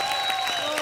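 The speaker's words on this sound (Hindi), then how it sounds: "एक बार कृष्णा के लिए जोरदार ताली हो जाए" A studio audience at a comedy show on The Kapil Sharma Show bursts into loud, dense clapping, a continuous wash of applause heard briefly.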